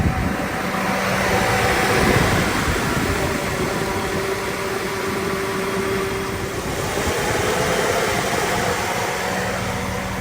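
A steady, loud whir of electric radiator fans on a Chevrolet Tahoe running with the AC on, plus the engine, with broadband airy noise and a faint tonal hum, no talking.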